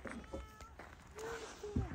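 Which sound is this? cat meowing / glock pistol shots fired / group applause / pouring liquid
cat meowing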